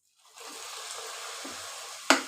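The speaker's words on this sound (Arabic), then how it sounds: "هحط ايه، نص كوبايه ميه ايه مغليه" Half a cup of boiled water is poured into a cooking pot, a soft continuous trickling stream that starts after a brief silence, followed by a sharp knock at the end.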